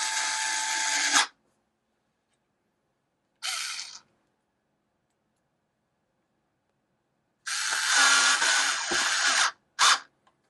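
A Dovaman E009A 4V cordless screwdriver whirs in three bursts as it removes and drives screws: a one-second run, a shorter one, then a longer two-second run with a brief final blip, close and alone between silences.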